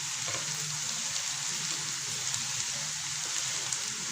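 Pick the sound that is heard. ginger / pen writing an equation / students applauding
ginger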